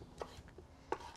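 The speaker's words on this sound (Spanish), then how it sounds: "Y ya al último voy a picar los jitomates" Knife chopping tomatoes into small cubes on a board, a few sharp distinct cuts at irregular spacing over quiet kitchen background.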